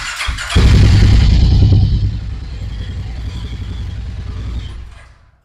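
A 2024 Harley-Davidson motorcycle with about 7,000 km on it starts with a brief clatter, then its engine booms loudly up close. It settles into a steady rumbling idle for a few seconds before the sound cuts off.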